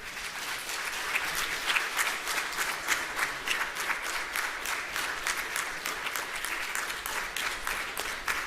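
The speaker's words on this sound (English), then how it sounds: "And if we could have another round of applause for them." A conference audience gives the speakers a sustained round of applause at a transportation symposium, dense even clapping that holds steady throughout at full loudness, with a little crowd murmur under it.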